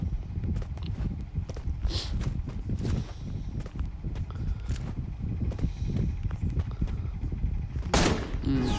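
Rapid gunfire in a shooting video game, dense bursts of close, loud shots crackling continuously with a few sharper cracks, under game noise and no clear talk.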